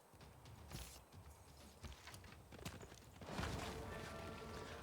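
In the Civilization 6 video game, a horse unit moves with clip-clopping hooves and soft game effects, faint and steady, ending in a brief burst of louder movement.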